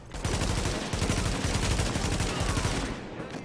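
Dense, continuous gunfire in The Division as enemies attack a defended supply point, rapid bursts and volleys layered into a loud, unbroken barrage lasting several seconds, with faint voice-like sounds mixed in.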